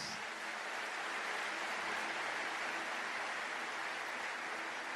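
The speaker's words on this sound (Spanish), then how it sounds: "Apláudalo más." A church congregation applauds at length, a thick, even roar of many hands that holds steady at the same level throughout, with no voices standing out.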